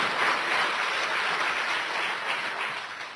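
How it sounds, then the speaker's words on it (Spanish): A church congregation claps during a sermon, a short burst of dense, even applause that stays fairly loud and slowly fades. "Si quieren aplaudir, aplaudan."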